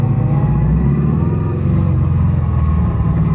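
A Scion FR-S with solid transmission mounts idles close by, giving a steady, loud, droning engine rumble with a deep low throb and no break throughout.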